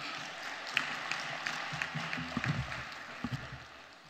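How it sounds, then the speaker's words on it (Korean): Faint, distant applause at a church gathering at a prayer retreat, a soft patter of many hands behind low room noise, with a few sharper claps standing out. "박수 쳐주셔야 됩니다."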